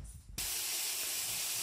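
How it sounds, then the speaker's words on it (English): Bacon, onion and garlic for a red pasta sauce hit a hot frying pan and burst into a loud, steady sizzle. The hiss holds at a constant level up close, with no talking. "you can probably hear now, the pan is sizzling"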